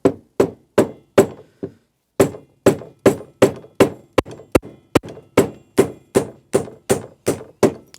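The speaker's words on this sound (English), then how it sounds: "Try it with a nylon hammer first." Sharp, regular taps of a nylon hammer striking a worn Amal Monobloc carburettor, about two per second, close and distinct with brief ringing decays and a short pause partway through.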